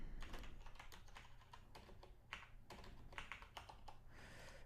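Steady, close typing of code on a computer keyboard, quiet key clicks tapping in an uneven rhythm with no one talking.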